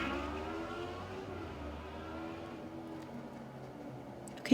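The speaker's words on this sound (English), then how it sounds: "that was a motorcycle" A motorcycle passes by outdoors, its engine a continuous droning rumble that holds fairly steady at moderate distance before a brief bump at the end.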